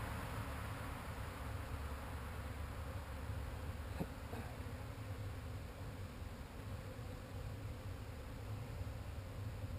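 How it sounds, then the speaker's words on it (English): A continuous dense buzz of many honey bees from a 3-pound package being hived, steady and enveloping, with no voices. "Get some of those bees off the bottom of that can."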